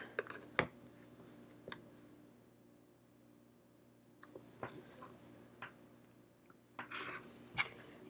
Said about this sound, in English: Maybe I can cut two little squares out quick.